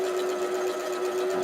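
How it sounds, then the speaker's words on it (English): A sewing machine stitches pot holder fabric in a steady, continuous mechanical whir with a constant hum, loud and close, with no talking over it. "Do you like a sewing machine with scissors when you're doing patchwork?"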